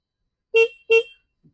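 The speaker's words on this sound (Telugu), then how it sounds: "హార్న్ సౌండ్ అయితే అంత అనిపించలే నాకు" The thin-sounding stock horn of a 2025 Royal Enfield Classic 650 motorcycle gives two short, sharp beeps in quick succession, close and alone against silence.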